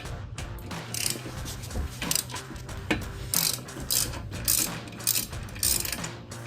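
A ratchet wrench works a 13/16 caliper bracket bolt loose on a 2009-2023 Dodge Challenger, giving close, loud bursts of rapid clicking separated by short pauses.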